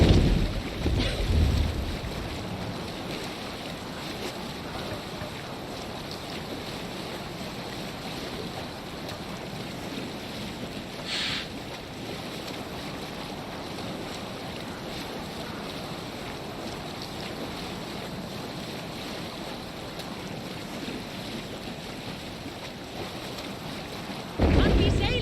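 A sailing ship in Assassin's Creed Valhalla surges through waves under steady wind, with a continuous broad rush of water and air that swells briefly at the start and end.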